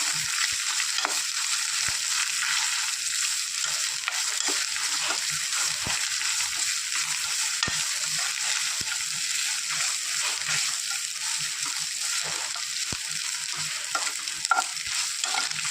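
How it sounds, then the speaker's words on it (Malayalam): Grated coconut fries in a pan for cassava erisseri, giving a continuous bright sizzle with frequent soft stirring clicks and scrapes close by, steady throughout with no talking. "തേങ്ങ ഇതിൽ ഈ കിടന്ന് നന്നായിട്ടൊന്ന് ഫ്രൈ ആയി വരണം"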